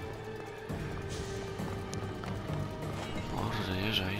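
Horse hooves clip-clop in Assassin's Creed Odyssey, a steady galloping patter over game music and ambience, loud and close, with no talk.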